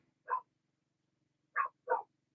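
Dogs barking outside at night, three sharp separate barks, one alone and then a quick pair, at moderate distance over quiet background.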